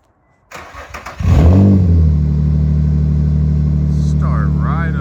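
An Infiniti G35 with a freshly swapped manual transmission cranks briefly with a few clicks, then fires up loudly and settles into a steady, strong idle, with a faint whine late on.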